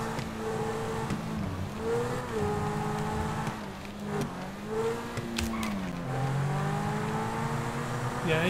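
A car drives in GTA 5 Online with a steady engine drone whose pitch rises and falls through gear changes, close and continuous for several seconds, with faint talk in the background.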